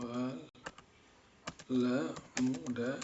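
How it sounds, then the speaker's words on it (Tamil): Clicks from typing on a computer keyboard while entering Tamil text: a few sharp, separate keystrokes mixed with a nearby voice talking. "ஸோ அதை நான் தமிழில் டைப் பண்ணலாம்"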